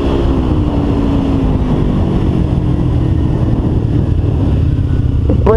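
A 2012 Kawasaki Ninja 250 motorcycle engine droning steadily while riding, a loud continuous hum with rising and falling pitch and wind noise, close and alone.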